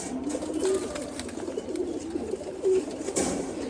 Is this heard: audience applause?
no